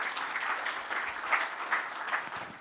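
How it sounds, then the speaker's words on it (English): Audience applause at a tech conference talk, moderately distant clapping from a seated crowd that swells in uneven bursts and starts to thin toward the end. "that deserves a round of applause for the Xinja team"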